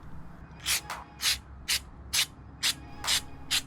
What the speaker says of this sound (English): Next, you take the MAF sensor and spray it down 10 to 15 times.